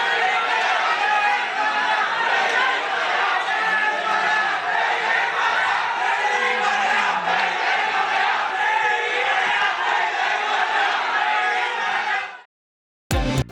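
Fans packed in a cinema hall roar and chant for Balayya during Akhanda 2, a loud, continuous crowd din of massed shouting and cheering that cuts off abruptly near the end.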